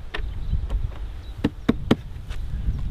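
Bees buzz faintly around an opened beehive outdoors in May, with several sharp taps or knocks from handling the hive standing out over soft background hum.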